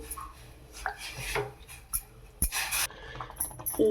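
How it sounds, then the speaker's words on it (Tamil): Beetroot halwa being stirred in a pan over high flame: a ladle scrapes and rubs against the metal in short irregular strokes, close and fairly soft, with faint sizzling beneath. "ஊற்றிட்டு நல்லா ஹை ஃப்ளேமில் கொஞ்சம் நேரம் கிண்டிகிட்டே இருங்க"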